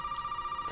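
A telephone in Resident Evil 7 rings with a steady, pulsing electronic tone, clear and close, heard alone.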